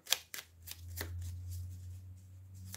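Tarot cards shuffled by hand during a cartomancy reading, with a few sharp close riffs and slaps followed by a softer sliding shuffle, fairly quiet overall.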